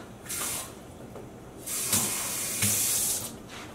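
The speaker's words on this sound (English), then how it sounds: "I am gonna go rinse out these cups" Tap water spraying into and rinsing out cups that held food coloring dye, a close hissing splash that rises and falls in two or three surges with no talking.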